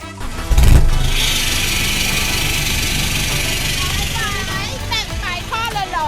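A 2019 Isuzu D-Max 1.9 pickup truck cranks and catches with a loud burst, then settles into a steady diesel idle, with someone talking over it near the end.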